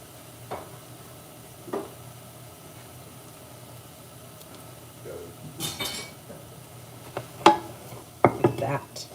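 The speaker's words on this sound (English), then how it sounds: "We're going to add some sweet peppers." Sweet peppers tossed into a hot oiled pan with onions, a low sizzle running throughout while a spoon scrapes and clanks against the pan in a few short bursts, louder toward the end.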